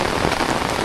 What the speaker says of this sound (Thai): ฝนตกหนักขนาดเลยพี่น้อง